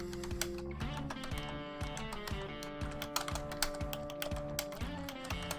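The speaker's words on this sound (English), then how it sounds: "You don't have to click on it if you just type it in the blank field here." Fingers typing on a computer keyboard, a quick steady patter of close, crisp key clicks running throughout with no talk over it.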